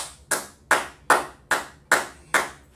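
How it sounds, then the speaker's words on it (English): Six evenly spaced claps ring out in a slow, steady rhythm, each crisp and close with a short echo. "So we'll clap it up, man."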